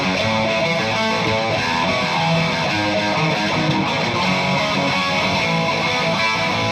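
Distorted electric guitar played without its whammy pedal, thick continuous riffing with a gritty, saturated tone, loud and close with no speech over it.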